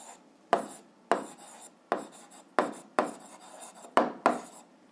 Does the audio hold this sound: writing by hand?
yes